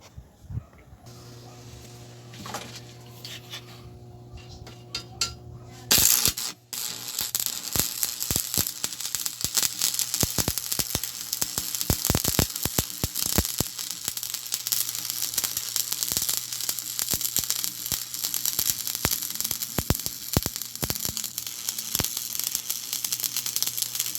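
An arc welder built from a microwave transformer is struck with a 6013 electrode at low current, a hum at first, then a loud, steady crackling sizzle with sharp pops that runs on to the end.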